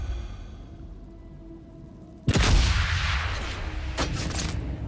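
A suppressed-sounding rifle shot with subsonic ammunition in Sniper Elite 5 cracks sharply after a quiet stretch, followed by a second shorter report, both close and set against a low ambient hum.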